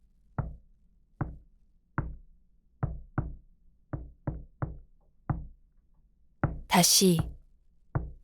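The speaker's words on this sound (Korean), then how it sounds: "바깥 세상이 문을 두드렸고" Knocks on a door come one at a time in a slow, fairly even series of about a dozen sharp raps, with a brief spoken word near the end.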